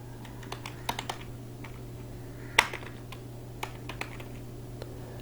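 Fast, light keystrokes on a computer keyboard during Excel data entry, close and soft, with one sharper key press midway over a steady low hum.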